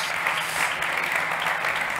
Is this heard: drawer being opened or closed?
no